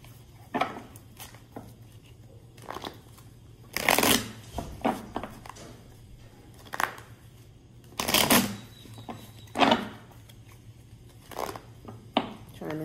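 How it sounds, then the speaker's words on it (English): A deck of cards being shuffled by hand, with several sharp riffling bursts and softer flicks spread out over a quiet background hum, close to the listener. "pull more from out of this deck after I shuffle it"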